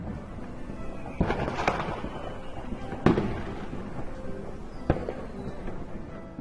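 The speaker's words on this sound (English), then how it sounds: "Jessie heard the sound of fireworks exploding." Fireworks bursting for New Year: several sharp bangs at irregular intervals, each followed by crackling and rumble, against a steady background hiss.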